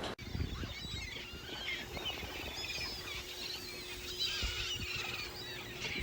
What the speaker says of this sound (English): These birds squawk, bite each other.